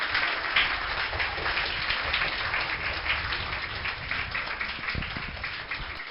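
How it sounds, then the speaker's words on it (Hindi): An audience at an Independence Day celebration gives Irshad bhai a dense, steady round of applause, a continuous patter of clapping that fades a little toward the end. "इरशाद भाई के लिए एक जोरदार तालियों के साथ।"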